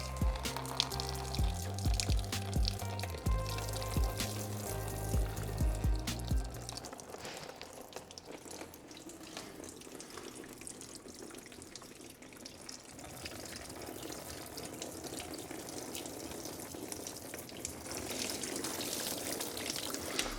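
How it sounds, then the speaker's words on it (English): Coolant drains out of a VQ35DE engine block in a continuous splashing trickle, heavier at first and then thinning to a steady pour and drip, close and without voices. "Isn't it crazy how much coolant stays in it after we drained every pipe off of it?"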